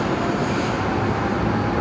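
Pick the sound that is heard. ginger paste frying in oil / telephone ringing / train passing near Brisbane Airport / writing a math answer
train passing near Brisbane Airport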